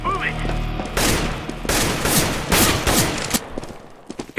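Bursts of rapid gunfire in the video game Counter-Strike: Global Offensive, with several loud, close volleys of shots in quick succession and a brief voice at the start.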